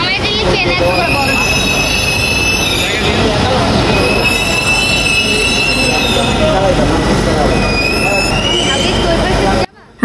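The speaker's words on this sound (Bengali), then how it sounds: "ট্রেনটি মতিঝিল থেকে ছেড়ে এসেছে।" A Dhaka metro rail train running between Uttara and Motijheel, its wheels squealing loudly and steadily in high whines over a dense rumble for about ten seconds before cutting off, with voices faintly underneath.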